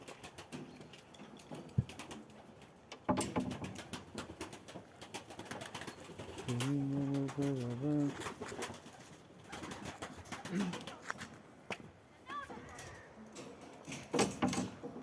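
Pigeons coo nearby in soft, throaty bursts, one longer warbling call in the middle, among scattered clicks and light rustling.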